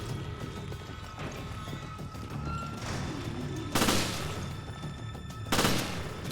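Two heavy Magnum shots boom in Resident Evil Revelations, spaced about two seconds apart, over dense game ambience and a constant background rumble.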